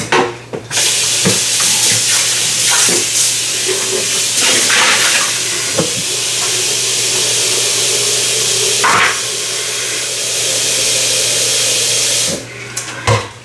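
Steady running water streams into a kitchen blender jar as it is rinsed, a continuous broadband wash with a few brief clunks and splashes, close and fairly loud throughout.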